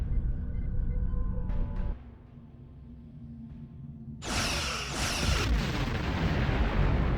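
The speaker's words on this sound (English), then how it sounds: "Target that ship, and fire all weapons!" A starship in the Star Trek Online game fires all its weapons against an Undine planet killer, producing deep booming blasts and a sudden loud burst of crackling energy fire and explosions with no voices over it.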